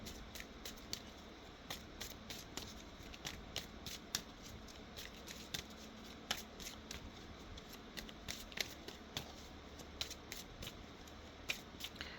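Oracle cards being shuffled by hand, a quiet, continuous riffle and slide of card stock with soft irregular flicks and taps, close but faint throughout.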